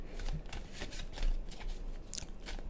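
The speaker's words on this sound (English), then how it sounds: "And let's keep shuffling." Tarot cards shuffled by hand close up, a fast continuous run of soft papery riffles and flutters at an even rhythm, with no talking.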